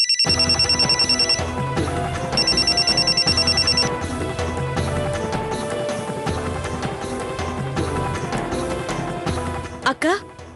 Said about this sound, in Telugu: అక్క, నేను కాల్ రిసీవ్ చేసుకోనా?